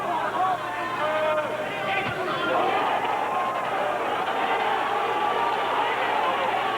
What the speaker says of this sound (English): The crowd making a lot of noise by that, because of that flurry by Czyz